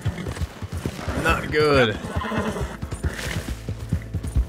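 A horse in Red Dead Redemption 2 whinnies loudly mid-clip over the clip-clop of galloping hooves, with a person talking over the action.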